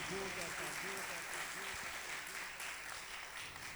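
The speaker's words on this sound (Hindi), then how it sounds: "आए खुदा के जलाल के लिए जोरदार तालियां बजा दें।" A church congregation applauds loudly at a pastor's call, a dense wash of clapping throughout, faint and distant, with a voice and music-like tones underneath.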